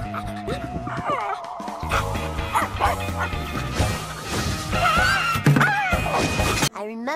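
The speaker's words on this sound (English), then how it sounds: "Here, doggy. Here, doggy, doggy." Dog barks and yips from a video game come close and loud over game music and effects, with a voice calling out among them.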